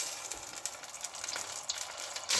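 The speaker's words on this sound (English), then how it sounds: "Okay, we think the oil is quite hot there. Can we add the frozen garlic and ginger," Frozen ginger and garlic hit hot oil in a pan, giving a loud steady hiss and sizzle with crackling pops that swells sharply at the end.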